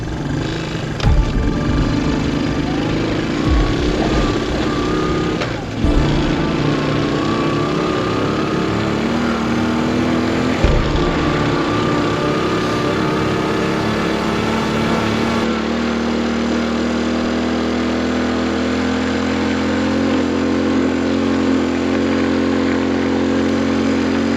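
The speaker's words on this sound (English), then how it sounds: "we found that Chris's bike would only run with the choke on all the way" A Honda CT90 motorcycle engine runs steadily on full choke, a loud continuous mid-pitched drone with a slight shift in tone partway through, close and alone without talk.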